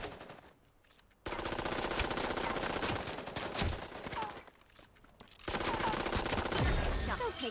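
Loud bursts of automatic gunfire in the mecha battle royale game Super Mecha Champions, broken by two brief quiet gaps, with no talk.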